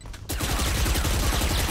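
Gunfire in a fast-paced competitive shooter game, a brief quiet moment then a sudden loud dense burst of rapid rattling shots that continues without a break.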